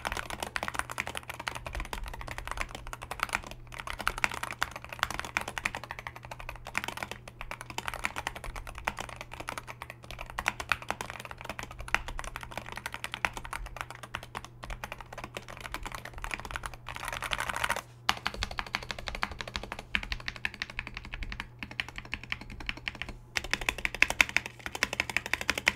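Steady typing on a Wooting 60HE gaming keyboard: a dense, continuous patter of close keystrokes at a quick, even pace, fairly quiet, with no talking.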